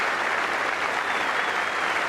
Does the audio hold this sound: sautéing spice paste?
no